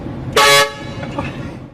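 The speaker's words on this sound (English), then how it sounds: "if you blast an air horn at someone making minimum wage" A single short, loud horn blast bursts out near the start, then fades into a low background murmur.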